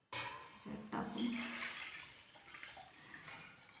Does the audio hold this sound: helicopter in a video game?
no